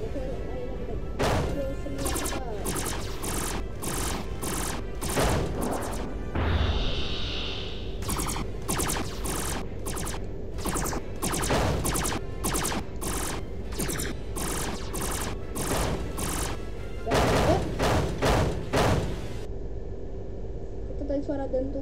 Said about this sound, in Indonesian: Suara dentuman besi ke lantai itu karena berpecah menjadi berkeping-keping